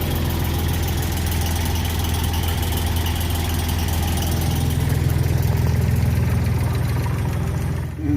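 A diesel locomotive idles at a heritage railway in Hastings, giving a steady, close, low engine rumble with a knocking pulse that deepens slightly partway through, with no voices.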